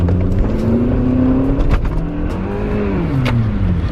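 A Miata-engined go-kart accelerates hard in first gear, its engine note climbing, dipping and climbing again, loud and close, with no talking.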